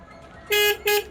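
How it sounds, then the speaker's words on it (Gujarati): Two short, loud honks from a Massey 1035 DI tractor horn, close by, over a faint background hum. "હોરન ચાલુ"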